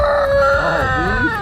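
Chickens cluck and a rooster crows on a pastured livestock farm with chicken tractors, loud and close, a sustained crowing call over busy clucking.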